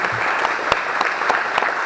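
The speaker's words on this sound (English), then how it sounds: "You can applaud, please." Audience applause after a conference keynote, a dense, close crowd clapping with a few sharper individual claps standing out, sustained and loud throughout.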